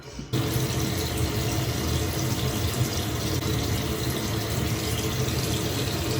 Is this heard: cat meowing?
no